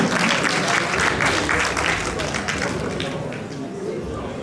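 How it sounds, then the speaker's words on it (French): An audience applauds at a Malian diaspora gathering in France, a dense burst of clapping that starts strong and slowly thins, with some voices mixed in. "Je vous demande de les applaudir."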